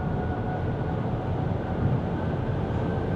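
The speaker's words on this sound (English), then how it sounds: "there's a lot of tire noise. You can hear that." A Skoda Enyaq 85x electric car cruising on the road, with a constant loud roar of tire noise heard from inside the cabin and no other sounds.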